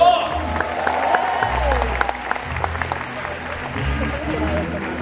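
An audience claps through a training event at PICC, producing a steady, fairly loud wash of applause with crowd noise and low murmurs beneath it across the whole stretch.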